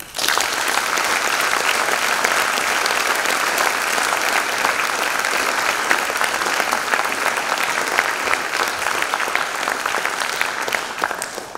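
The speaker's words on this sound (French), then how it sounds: "Je vous remercie d'accueillir et d'applaudir notre lauréat 2024, Jean-Marie Rouard." An audience at the Prix Audiberti 2024 award evening applauds the laureate, a dense, sustained wash of many hands clapping that stays loud and steady for over eleven seconds with no talk over it.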